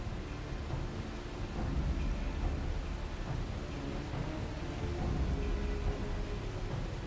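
Steady rain with rolling thunder in Final Fantasy XIV: Dawntrail, a continuous broadband downpour with low rumbles swelling beneath it, moderately loud and unbroken, no voices.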